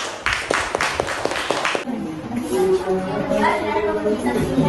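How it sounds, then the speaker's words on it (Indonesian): Students in a classroom give a short burst of clapping for a group of classmates, a few sharp rapid claps that stop quickly, followed by murmuring voices and room chatter. "beri tepuk tangan buat kawan kalian"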